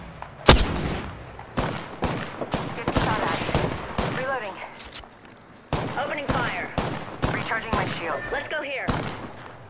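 Video game gunfire comes as sharp, scattered shots and bursts at moderate distance, mixed with a game character's voice calling out.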